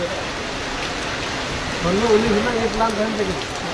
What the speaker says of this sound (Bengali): এখন এলাকায় সেখানে বৃষ্টিপাত দেখতে পাচ্ছেন অঝরে বৃষ্টি হচ্ছে